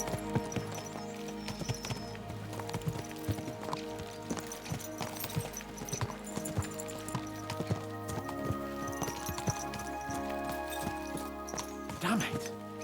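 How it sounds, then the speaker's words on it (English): Horse hooves clip-clop steadily in Kingdom Come: Deliverance II as riders spur their mounts along, the rhythmic beats running throughout over a dense layer of music and ambience, with a voice talking at times. "Let's really spur these horses on, eh?"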